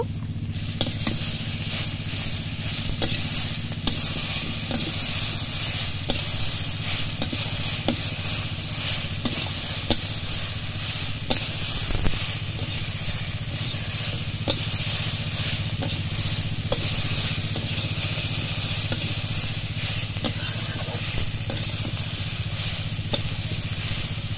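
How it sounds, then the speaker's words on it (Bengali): Potatoes with ginger paste frying and being stirred in a pan, a steady close sizzle running throughout with frequent small scraping stirs, no voices. "আদা বাটা দিয়ে আর একটু ভালোভাবে কষিয়ে নেব"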